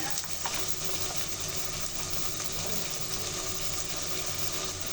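Garlic, ginger and cumin paste frying with fried onion in a pan for a pangas fish bhuna, giving a steady, soft, even sizzle at low volume with no talking.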